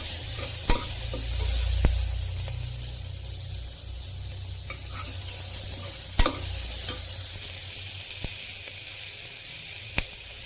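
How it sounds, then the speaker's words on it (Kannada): Chillies frying in a pan for tomato bath masala, a loud close sizzle and hiss throughout, with occasional sharp clicks of a utensil stirring against the pan. "ಈಗ ಇದಿಷ್ಟು ನಾವು ಫ್ರೈ ಮಾಡ್ಕೊಳ್ಬೇಕು."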